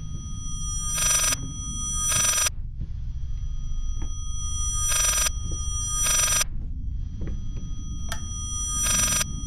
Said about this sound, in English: Answer that freaking phone!